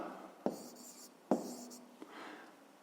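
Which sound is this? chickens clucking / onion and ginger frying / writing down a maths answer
writing down a maths answer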